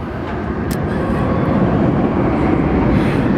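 A steady loud rushing roar of a roller coaster train at Busch Gardens Williamsburg whooshing past nearby, sustained throughout without letup.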